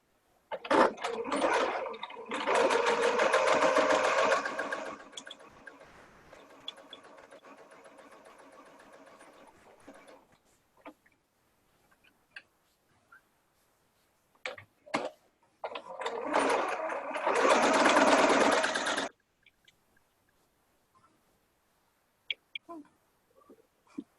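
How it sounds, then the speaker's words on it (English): A sewing machine stitches a seam with back stitching at the start and end, producing two loud, steady runs of rapid mechanical whirring separated by slower, softer stitching and scattered clicks, with brief quiet talk in between. "And I do back stitch at the beginning and the end of this to reinforce."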